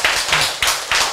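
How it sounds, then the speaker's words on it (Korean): A church congregation clapping in unison during a sermon, with four quick, evenly spaced claps sounding close and crisp. "박수"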